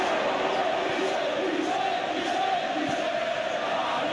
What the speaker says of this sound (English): the crowd clearly liked what they just saw